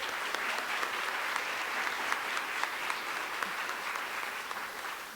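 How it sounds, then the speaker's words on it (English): Audience applause for finalists of a linguistics competition, a steady dense wash of many hands clapping, moderately distant and sustained throughout without talk. "Give them a round of applause in advance."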